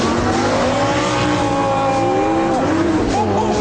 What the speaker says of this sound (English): wait for the flag to drop, and launch